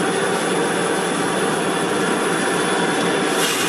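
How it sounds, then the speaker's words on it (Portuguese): Seven train locomotives, five pushing at the rear and two pulling at the front, accelerate together up a steep ramp, giving a loud, steady, unbroken roar with no pauses. "5 locomotivas atrás e 2 na frente. Um total de 7 locomotivas. Todas acelerando."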